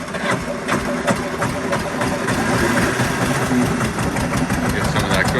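1958 Porsche Diesel Junior tractor idling after a cold start, its diesel engine a loud, close, steady knocking chug with rapid regular firing pulses and a voice partly underneath.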